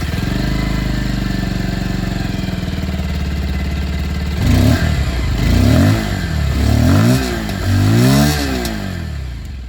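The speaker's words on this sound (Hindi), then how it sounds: "चलिए एक बार जो इसकी एग्जॉस्ट साउंड है वो भी मैं आप लोग को यहाँ पर एक बार सुना देता हूँ।" Bajaj Pulsar 150 motorcycle exhaust heard up close, a steady loud idle followed by several throttle blips that rise and fall in pitch, with no talking.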